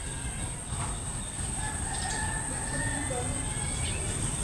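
Chickens at a backyard coop cluck and a rooster crows faintly at a distance, over steady outdoor background noise.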